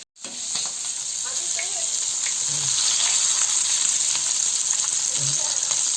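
Fish fries in hot oil in a flat iron pan in a village kitchen, giving a loud, steady hiss of sizzling that starts abruptly and holds throughout, with faint voices talking in the background.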